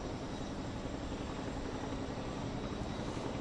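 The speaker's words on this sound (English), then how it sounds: "The helicopter here is bringing over sandbags, a sandbag." A helicopter carrying sandbags over a thousand-year flood makes a steady, unbroken rotor and engine roar that fills the whole span, with no talk over it.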